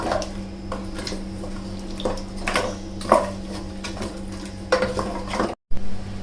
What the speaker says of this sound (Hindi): दही डालकर हम भूनते हुए हमें 1 मिनट हो गया है।